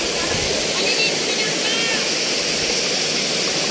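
Balagbag Falls roars with a loud, unbroken wash of falling water, close and constant throughout.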